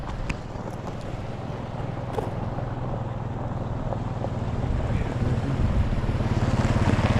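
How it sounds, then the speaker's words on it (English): A farmer's vehicle approaches along the A697 Coldstream Road near Wooler, its engine rumble rising steadily from moderate to louder as it draws near, with wind noise over the rural roadside. "Oh, vehicle coming along,"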